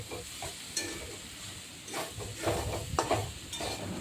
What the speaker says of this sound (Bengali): এবার সুন্দর করে নাড়াচাড়া দিয়ে দেখেন কি সুন্দর হয়ে গেছে